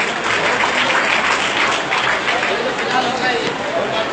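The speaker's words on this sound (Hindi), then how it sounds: "जोरदार तालियां" Loud, sustained applause from a school audience at a residential school program, dense clapping continuing steadily throughout with a faint murmur of voices in the crowd.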